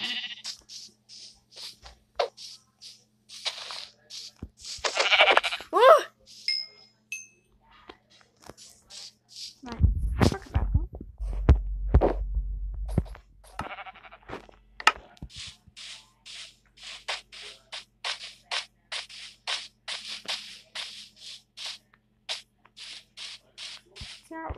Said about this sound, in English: So weird noise. The sheep, it did it.